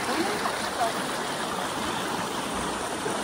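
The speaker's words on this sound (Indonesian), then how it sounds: "airnya anget ini mengandung belerang ya kapur bisa dilihat" Warm, sulfur- and lime-laden hot spring water at Hierapolis in Turkey flows in a steady, close rushing wash that keeps an even level throughout and carries no voices.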